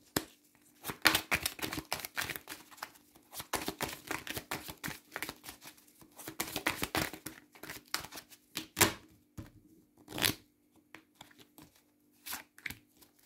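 Tarot cards being shuffled, handled and laid down on a table, a long run of sharp papery flicks, slaps and rustles in irregular bursts with short pauses, close and fairly quiet.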